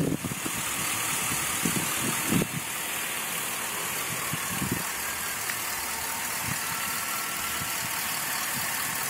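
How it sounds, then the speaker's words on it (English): A 2003 Chevrolet Silverado 1500 HD 4x4 with a six-liter Vortec V8 idles steadily and evenly nearby, with a few faint handling knocks near the start. "Talking 300 horsepower, smooth running V8"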